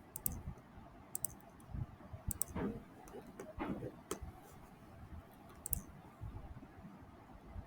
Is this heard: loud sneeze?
no